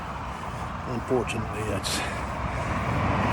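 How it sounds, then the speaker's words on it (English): A busy road rumbles on continuously beside a walker, with cars and trucks passing close by in a steady wash of traffic noise while someone talks over it. "All that traffic noise, guys,"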